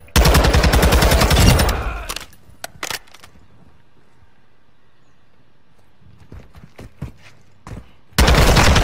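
Loud automatic gunfire in Modern Warfare 2 rattles in a rapid burst, drops away to a few scattered shots and near quiet, then erupts again into a dense, close fusillade.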